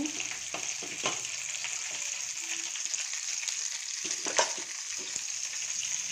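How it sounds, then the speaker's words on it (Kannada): Spices temper in hot oil for curd bajji, giving a continuous soft crackling sizzle with occasional small pops, moderately close and with no talking. "ಈ ಕಡೆ ಮೊಸರು ಬಜ್ಜಿಗೆ ಒಗ್ಗರಣೆ ಮಾಡ್ಕೊಳ್ತಾ ಇದ್ದೀನಿ"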